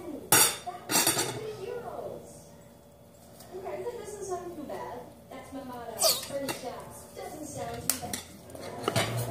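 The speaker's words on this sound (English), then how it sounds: "I'm gonna stir it." Slime mixture with glow-in-the-dark pink colour is stirred in a bowl, the spoon clinking and scraping against the sides in irregular bursts while a person talks over it.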